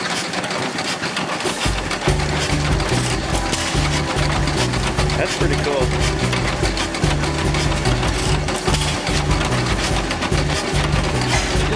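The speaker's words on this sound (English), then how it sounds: "this engine's what they call a hit and miss" An idling hit-and-miss engine chugs loudly and steadily, its rhythmic firing pulses repeating under a brief comment from a nearby voice.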